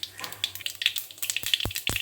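Black mustard seeds and dried red chillies fry in hot oil for mango chutney, giving a crackling sizzle with quick irregular pops and spits, close up and without talk.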